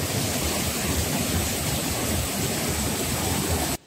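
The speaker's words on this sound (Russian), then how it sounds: "А вот тут обманули, из трубы пустили, чтобы красиво капало на камешки." Water let out of a pipe falls onto small pebbles in a decorative setup in Turkey, making a steady, dense splashing rush that sounds loud and close, runs continuously without pause, then cuts off abruptly just before the end, with no voices.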